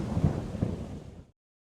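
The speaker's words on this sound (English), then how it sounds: "Then, one day, a terrible storm came." A crashing thunderstorm from the Teach Your Monster to Read game, a loud broad rumble with a couple of heavy thunder swells over about a second before cutting off abruptly.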